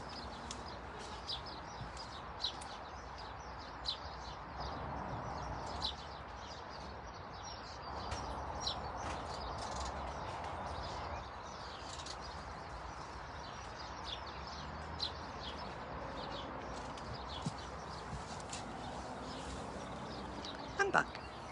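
Birdsong chirps on and off at a distance outdoors, thin and faint above a steady low background hum and rustle, with no talking.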